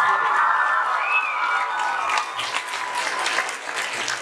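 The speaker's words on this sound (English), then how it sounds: "A big round of applause for Mr. Poston for bringing us here." Audience applause at a school arts event, dense and steady clapping with some cheering voices throughout, loud and fairly close, with a faint voice over it early on.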